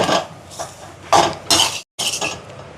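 Potato and fish cutlet mixture being stirred and mixed in a pot in a Jaffna home kitchen, giving scraping, clinking bursts of utensil against metal in uneven strokes, with a brief pause near the end.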